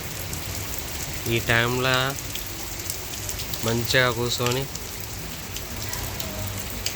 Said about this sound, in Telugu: ఏం వర్షం కొడుతుంది గాయస్